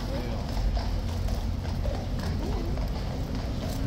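Horse hooves clip-clopping on pavement at Horse Guards in London, where a mounted King's Guard stands, heard as a steady patter of hoof strikes within constant crowd and street noise.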